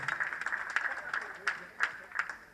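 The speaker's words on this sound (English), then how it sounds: "Kindly applaud them once again. And please applaud yourself." An audience at the 2013 Voice Award ceremony claps faintly and at a distance, with sharp hand claps coming in a loose rhythm over voices and a steady background hum.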